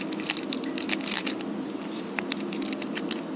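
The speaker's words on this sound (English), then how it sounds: "Be sure to remove all the tape." Tape peeled away from a glass slide in a lab, producing a close, steady crackling and tearing rasp with scattered sharp crinkling ticks throughout.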